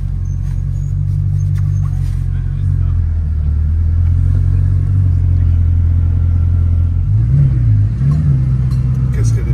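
A Bugatti Chiron's engine drones loudly as heard from inside the car, holding a steady low roar that rises in brief revs near the end, with voices talking over it.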